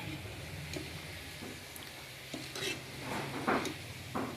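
Shankarpali, a sweet Diwali snack, fries in oil with a steady low sizzle while a utensil stirs and scrapes in the pan, with a few louder clinks near the end; no talk.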